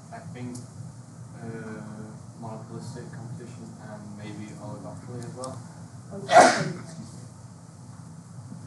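A single sharp sneeze bursts out partway through a classroom economics discussion, loud and brief against steady conversation in a room with a faint air-conditioning hum.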